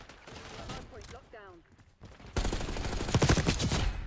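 Rapid automatic gunfire in the shooter game Black Ops 6, a dense loud burst of shots that starts abruptly and keeps rattling after a stretch of quieter game sound and a brief spoken voice.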